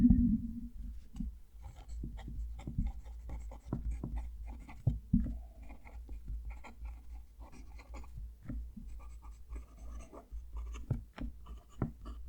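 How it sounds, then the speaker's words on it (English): A Pelikan M205 fountain pen with a standard medium nib scratches steadily across paper, its soft close strokes and faint taps repeating through the whole stretch with no talking. "a little bit of tactileness coming through there as I'm writing as well"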